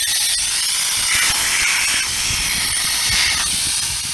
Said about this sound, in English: first thing we're going to do is let all the air out